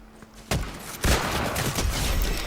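Sharp gunfire in a Fortnite match, loud close shots cracking in after a quieter start, followed by continuous rattling bursts.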